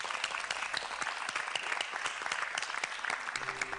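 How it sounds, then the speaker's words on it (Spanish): An audience applauds during a Spanish-language talk show segment of personal life stories, with dense steady clapping filling the whole stretch and a faint tone entering near the end. "Le damos un aplauso"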